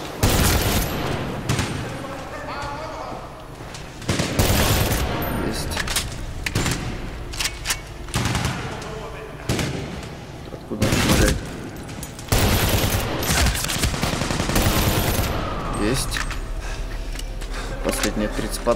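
Gunfire bursts in the shooter game Medal of Honor Warfighter, with rapid volleys and single shots in loud clusters separated by brief lulls, while someone talks over the action.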